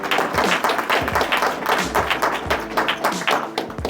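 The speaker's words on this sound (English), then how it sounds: "So let's give him a round of applause." Small audience applauding a speaker being introduced, close and fairly loud clapping with distinct individual hand claps in an uneven rhythm.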